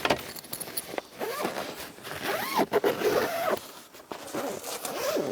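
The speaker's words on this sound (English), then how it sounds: "there's one zip that then goes all the way around" A zip is pulled around the cover of a Thule Easyfold XT2 towbar-mounted cycle carrier, making a close, continuous rasping zipper sound in several long strokes, with no talking.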